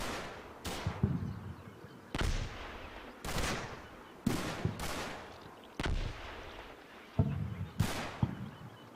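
Artillery shells landing in Combat Mission: Battle for Normandy: six sharp, heavy blasts at uneven intervals, each trailing a rumbling decay, fairly close and loud, with no talk.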